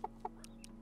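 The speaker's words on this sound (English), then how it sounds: "Hello, chicken." A chicken in the farming game Staxel gives two quick, soft clucks close together, followed by a pair of brighter clicking game sounds over a quiet steady hum.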